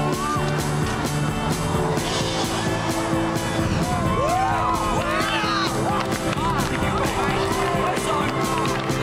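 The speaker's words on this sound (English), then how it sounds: "Cheering for me?" A crowd cheers for a runner at a school race, a steady mass of yelling and whooping voices with shrill rising shouts standing out in the middle, continuous and loud throughout.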